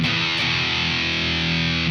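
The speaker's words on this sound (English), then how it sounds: "So here's what the crunch channel sounds like." Thick, chewy distorted electric guitar chords through the crunch channel of a Universal Audio Knuckles '92 Rev F Dual Rec amplifier, sustained and compressed, steady and loud with no talking.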